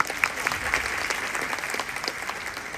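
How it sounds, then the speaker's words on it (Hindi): A crowd applauds steadily for performers at an Independence Day and Janmashtami stage show, a dense patter of many hands at moderate distance with no talking over it. "आइए हमारे प्रतिभाशाली कलाकारों के लिए जोरदार तालियां बजाएं।"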